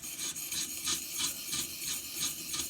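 A kitchen knife being sharpened with steady back-and-forth strokes, giving a rhythmic rasping scrape about three times a second, close and fairly quiet, with no voices.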